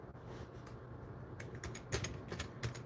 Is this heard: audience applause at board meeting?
no